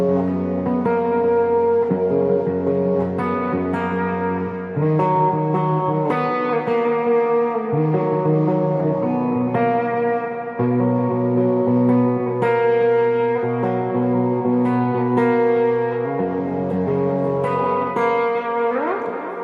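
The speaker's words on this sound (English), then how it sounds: "instead, I'm playing more of like a picking pattern" Guitar plays a flowing picking pattern for a song, with echo and reverb effects, moving through a few chord changes in a steady, unbroken passage without speech.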